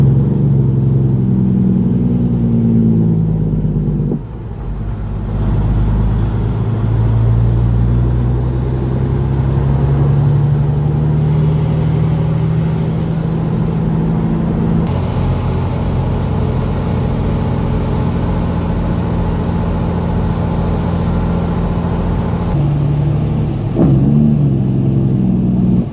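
A truck rumbles past at a dirty work site, a continuous low engine drone that stays steady for a long stretch, its pitch slowly sliding as the vehicle moves, with no talking.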